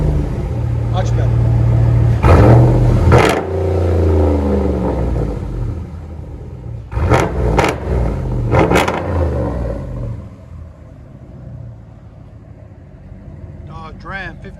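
Dodge Ram 1500 pickup with a 5.7L HEMI V8 and a muffler-delete exhaust, loud deep rumbling idle with several sharp revs rising and falling, recorded close by.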